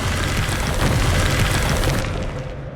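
A Bombarda spell explodes in Hogwarts Legacy: a loud, sustained, roaring blast that fills nearly three seconds before thinning out at the end.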